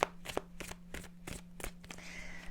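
Tarot cards shuffled by hand in a series of short papery riffling bursts, about six in quick succession, close and fairly quiet over a steady low electrical hum.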